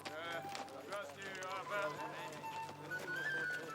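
Hooves clop over dense overlapping voices and music-like tones, with a horse whinnying amid the busy scene in a 1995 period drama.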